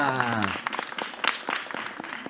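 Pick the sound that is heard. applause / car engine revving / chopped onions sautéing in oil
applause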